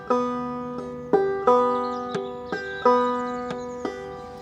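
A banjo plays a slow, alternating pluck-thumb pattern of plucked notes and thumbed strings, each note ringing and decaying before the next.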